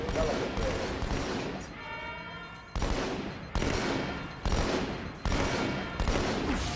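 Battle rifle gunfire in the shooter Halo 2, repeated loud bursts of rapid shots in a steady rhythm, with a brief pause filled by a ringing tone.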